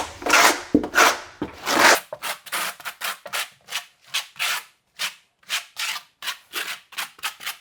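Trowel scraping and rubbing thinset mortar into a HYDROBLOK shower pan substrate, a series of close, gritty strokes: a few long sweeps at first, then quicker short scrapes in an irregular rhythm, with no talk.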